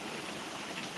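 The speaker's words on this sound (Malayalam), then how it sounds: "മഴ കണ്ടോ എന്നാ സൂപ്പർ മഴയെന്ന് പറയാം നല്ല സൂപ്പർ മഴയാണ്" Steady light summer rain falls outdoors, a dense even hiss of drops with no pauses, close and moderately loud, with no voices over it.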